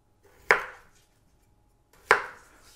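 Two sharp knife chops on a cutting board while preparing crock pot chicken, spaced about a second and a half apart, each a crisp close hit with a short ringing tail and quiet between.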